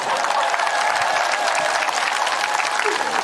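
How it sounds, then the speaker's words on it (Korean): Teenage students in a concert audience applaud loudly, a thick, unbroken roar of clapping from a large crowd that stays strong for the whole stretch. "10대 학생들 뜨거운 박수를 부탁드리겠습니다"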